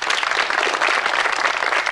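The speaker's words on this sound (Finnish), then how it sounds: "Ja aplodit tulevat vierestä pieneltä meriassistentilta." Steady applause from the audience at a 1997 Karuselli Finnish folk music semifinal, dense and continuous at even loudness throughout.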